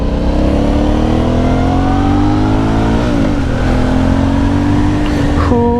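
An Aprilia Shiver 900 motorcycle engine starts and revs steadily and loudly up close, pitch climbing, dipping, then climbing again in sharp rising bursts.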